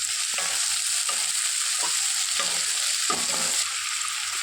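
Onion and tomato frying in hot mustard oil, a loud steady sizzle broken by regular scraping stirs of the spatula, about five strokes, close up with no voices.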